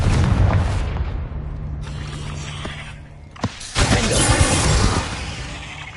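Spell explosions from Incendio and Confringo in the video game Hogwarts Legacy: a loud boom near the middle, then a sustained blasting roar lasting over a second, over a constant rumbling game background.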